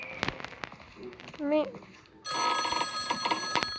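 A telephone ring tone sounds steadily through the second half, preceded by scattered clicks and a brief tonal warble, with someone talking over parts of it.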